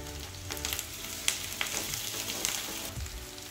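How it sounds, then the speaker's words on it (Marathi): Ginger-garlic paste frying with onions in a pan, a steady close sizzle with small crackling pops throughout. "अद्रक लसणाची पेस्ट पण थोडीशी तळली।"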